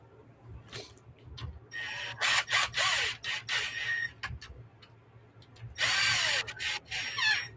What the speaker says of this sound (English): Probably shouldn't be turning that fast with the power tool